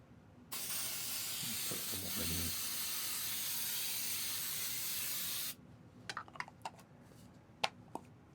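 An aerosol can of atmosphere spray releases one long, steady, loud hiss lasting about five seconds, then cuts off sharply, leaving a few faint clicks and taps in a quiet room.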